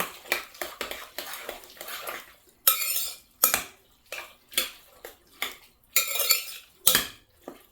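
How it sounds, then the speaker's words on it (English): A spoon scrapes and clinks around a bowl, stirring macaroni salad with mayonnaise in irregular bursts of clatter separated by short pauses, close and fairly loud, with no talking. "Let me stir this up, see if I need any more mayonnaise in it."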